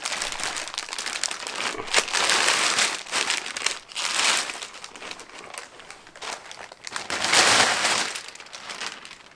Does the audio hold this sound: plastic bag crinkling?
yes